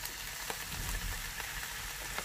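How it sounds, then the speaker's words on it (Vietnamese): Vegetables stir-frying with rice noodles in a vegetarian noodle dish, a soft steady sizzle with faint scattered clinks, heard alone at low volume. "mình cho 2 muỗng nước tương vào để mình xào cái phần rau này nè"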